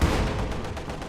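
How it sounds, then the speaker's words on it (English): A Soviet heavy mortar barrage in a World War II strategy game, a short, dense rumble of exploding shells and gunfire-like blasts at steady loudness, heard alone. "Ooh, that's a Soviet heavy mortar, I think, though."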